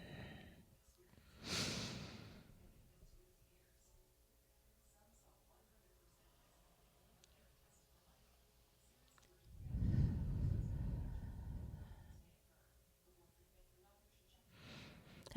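Slow deep breathing during a guided meditation, with one long drawn breath swelling and fading near the middle, a shorter breath near the start, and quiet room tone around them. No talking.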